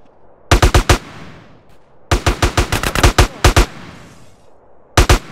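Close, loud automatic gunfire in Grand Theft Auto: San Andreas, fired in sharp rhythmic bursts of four to eight rounds separated by short silences, with no talking.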